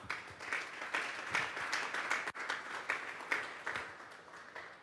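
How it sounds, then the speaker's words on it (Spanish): A church congregation applauds at a Sunday service, a continuous wash of clapping with rhythmic surges, steady and moderately loud throughout, with no talk over it. "Démosle un fuerte aplauso pues al Señor."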